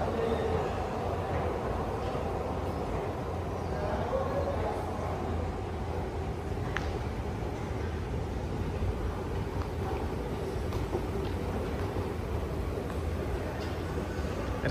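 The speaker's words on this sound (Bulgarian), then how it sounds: "Това е метрото." Continuous low rumble and rattling of a Doha, Qatar metro train in motion, steady and enveloping throughout, with faint high squeaks and no talking.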